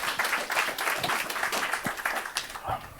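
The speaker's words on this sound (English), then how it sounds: "can I have a huge round of applause for Michael" An audience applauds a speaker named Michael after a talk, giving a dense, continuous patter of clapping at moderate loudness, with a few faint voices mixed in.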